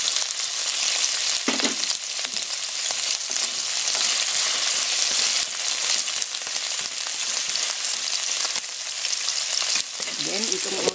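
Garlic fries in a pan as the start of yakisoba noodles, a loud, continuous crackling sizzle with occasional stirring scrapes and no talking.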